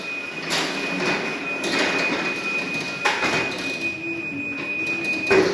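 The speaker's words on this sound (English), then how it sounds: "And there you go, it's closing the door." A MyQ automatic garage door closes, giving a steady mechanical hum with a thin high whine and periodic rattling clanks as the panels slide down, moderately close and with no talking.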